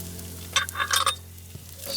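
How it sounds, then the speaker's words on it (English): Crushed red pepper flakes sizzle in a pan while being stirred for a prosciutto and sun-dried tomato Alfredo, a short cluster of scraping, clinking stirs over a steady low frying hiss. "We're gonna cook and stir them around for a couple minutes"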